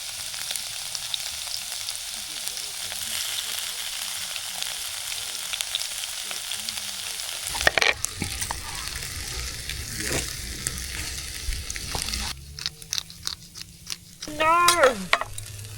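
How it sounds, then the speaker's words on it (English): Lamb cooking over a campfire beside a river, a steady crackling sizzle that shifts partway through, with brief louder clatters and possible voices near the end. "then cook up some lamb over the fire"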